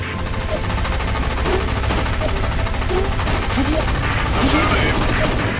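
Rapid machine-gun fusillades ring out in the War Wings aerial combat game with a DH-82 Tiger Moth biplane, loud dense bursts over a constant engine drone, with game voice callouts mixed in.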